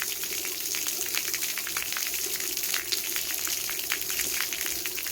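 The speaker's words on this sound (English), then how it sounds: "I'll lower the sound of the water" Water spraying from rain deck splash pad nozzles, a steady hissing rush of spray with small splashy crackles throughout, close and continuous with no voices.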